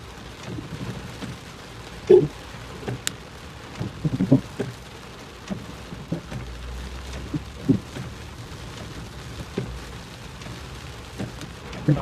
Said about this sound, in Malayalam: ഒന്നും കാണാൻ വയ്യ, നന്നാതിരി മഴയാണ്.